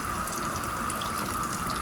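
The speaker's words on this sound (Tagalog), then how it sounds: "Ilagyan natin ng tubig para naman" A steady, continuous rush of running water poured into a cooking pot of soup, even and close throughout.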